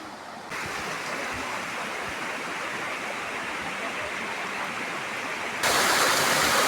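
Rathi Balli waterfall pouring steadily, a loud broadband roar of rushing water that swells louder near the end, with no voices.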